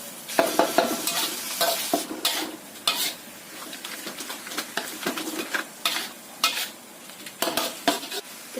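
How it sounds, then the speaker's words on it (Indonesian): A seasoning mixture with pepper is stirred in a pan for a savory snack, a spoon scraping and clattering in uneven bursts over a soft sizzle, close and clear with no talking. "Aduk dulu sampai tercampur."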